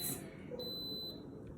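Instant Pot pressure cooker giving a short, faint electronic beep, a single thin high tone lasting about half a second in a quiet kitchen.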